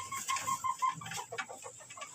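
Chickens in an old coop give soft, repeated clucks and a few short higher calls. The sounds are faint and close, with no talk.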